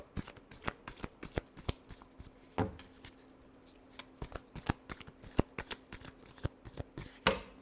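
Tarot cards are shuffled by hand close up, a quiet, irregular run of crisp snaps and riffling flicks with a few louder slaps, and no talking.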